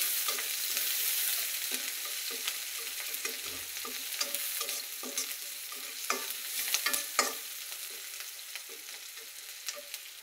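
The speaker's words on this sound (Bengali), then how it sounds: "এখন আমি একটু এখানে পেঁয়াজগুলো ভাজা হচ্ছে" Chopped onions fry in hot oil for a chicken curry, with a continuous sizzling hiss and repeated scraping clicks of stirring scattered throughout, fairly close and moderately loud.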